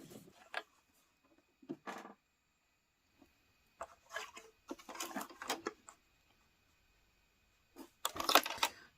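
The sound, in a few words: sewing machine stitching the side of a zip pouch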